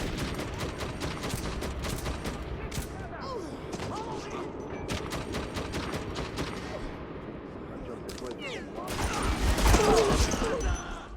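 Rapid clattering bursts of suppressed gunfire and mechanical clicks from the game Metro 2033 fire in dense, fast runs, with scattered louder impacts and a rumbling swell near the end.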